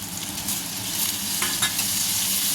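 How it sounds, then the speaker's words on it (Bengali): Tomatoes and ginger frying in a pan for a Bengali fish-head and pui shak dish: a dense, loud sizzle with brief scrapes of a spatula stirring, close up, no talk. "টমেটোটাকে দিয়ে ভালো করে নাড়বো"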